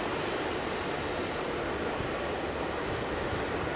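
Jet aircraft engines roar at Heathrow Airport in a steady, broadband, distant rumble with no clear peaks, continuous from start to end with no talking.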